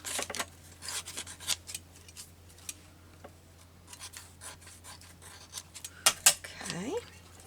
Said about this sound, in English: And then just cut.